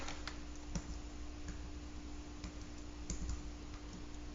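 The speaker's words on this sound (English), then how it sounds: "if you type in FBISD plus your lunch number" Typing on a computer keyboard while logging into a school textbook site, a quiet run of irregular clicky keystrokes over faint background hum.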